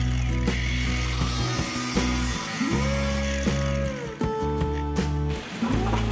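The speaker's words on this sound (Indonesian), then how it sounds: "Kita potong seperti di video ini menggunakan gerinda tangan." A hand angle grinder cuts light steel framing for a DIY low table, whining loudly and steadily from close range, its pitch shifting slightly as the disc bites, with no one talking.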